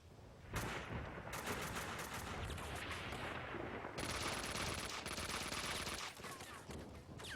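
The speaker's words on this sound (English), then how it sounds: "Some enemies trying to shoot you, but there's a wall in the way." Enemy gunfire in the video game Max Payne 2, dense rapid bursts of shots and ricochets filling the scene continuously at a fairly low level.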